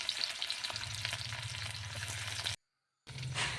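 Onions sizzling in hot oil in a wok, a dense, steady frying hiss with a low hum beneath, cut by a half-second dropout before the sizzle resumes.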